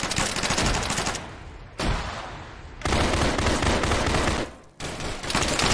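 Heavy automatic gunfire crackles in a crossfire in the ARMA 3 video game, long loud bursts broken by two brief pauses and little else heard.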